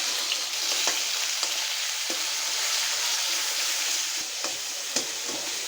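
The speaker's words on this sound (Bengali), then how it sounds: "মাংসটা আমি একটু ভাজা নিব হালকা।" Chicken meat frying in a pan alongside browned fried onions, a continuous bright sizzle with occasional stirring clatters, close and steady.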